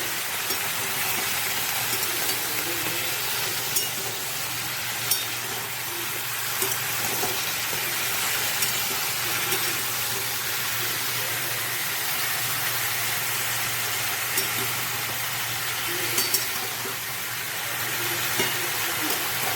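Mixed vegetables with turmeric and salt frying in a pan for a traditional curry, a steady soft sizzle and hiss running evenly throughout with faint occasional stirring clicks.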